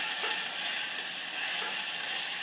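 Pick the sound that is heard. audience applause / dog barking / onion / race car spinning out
onion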